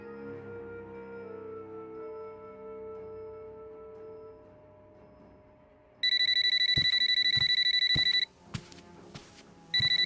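A telephone rings loudly in two bursts of bright, trilling electronic ringing, coming in after a few seconds of quiet low tones, with a few sharp knocks between the rings.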